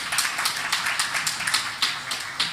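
A crowd claps continuously in a dense, steady patter of many hands, moderately loud and close, with no voices over it.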